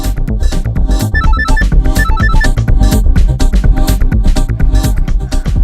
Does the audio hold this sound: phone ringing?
yes